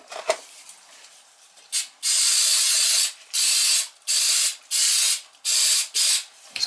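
Carburetor cleaner sprayed from an aerosol can on a noisy hydronic heating circulator, heard as five or six loud, close hissing bursts of about a second each, separated by short pauses, with no talking.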